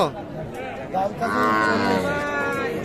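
Calf mooing at a cattle market selling young bulls and heifer calves, loud and close, a drawn-out call rising midway and holding for over a second, with faint crowd murmur behind.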